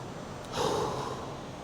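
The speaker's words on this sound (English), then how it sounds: "Key is you want to really breathe through this." One short, deep breath drawn in and pushed out during a leg mobility exercise, close and fairly soft, alone.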